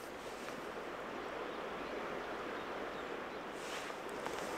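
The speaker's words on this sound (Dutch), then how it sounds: "Gewoon van het geluid van de stromende rivier." Rushing river rapids, a steady broadband roar of flowing water that stays even and continuous throughout, fairly soft with no voices.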